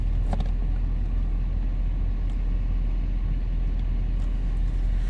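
A 2019 BMW 840d xDrive diesel accelerating hard from a standstill, giving a steady, loud, full engine drone with a deep low rumble throughout and no voices.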